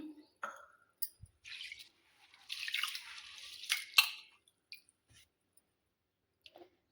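Soft, intermittent splashes and swishes of water as something is rinsed by hand, with quiet pauses between bursts.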